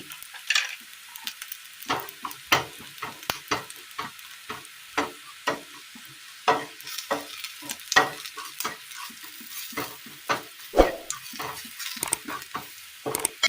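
Chicken with spice powders such as garam masala, chili and turmeric is stirred in a hot pan for a Kerala curry, with a spoon scraping and tapping in an irregular rhythm over a light sizzle, close and alone.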